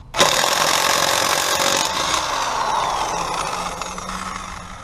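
A Chicago Electric 1/2-inch electric impact wrench zips off wheel lug nuts, a loud, continuous buzzing hammer that starts abruptly and runs nearly five seconds without pause, close up and alone.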